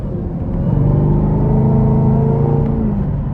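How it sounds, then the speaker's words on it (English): A 2024 Chevrolet Camaro ZL1 Convertible with a supercharged V8 pulls away on a road test drive. A loud, close, deep engine rumble swells slightly as it accelerates and holds steady, with no talking. "take this 2024 ZL1 Camaro Convertible out on the road for a test drive"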